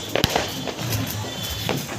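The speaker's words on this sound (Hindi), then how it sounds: "मुझे लगा है पटाखे फोड़ रहा है पीछे से।" Diwali firecrackers burst outdoors, with one sharp pop near the start and fainter crackles and rumble in the background.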